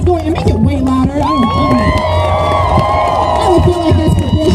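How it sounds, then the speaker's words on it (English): Crowd at a live event in Denver cheering and whooping loudly and continuously, with shouts rising over a dense roar throughout. "keep that applause going and make it way louder"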